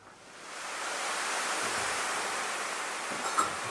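A tilted tambourine imitates sea waves, giving a smooth, hissing swell that rises gently, holds and then eases off, with a small jingle near the end.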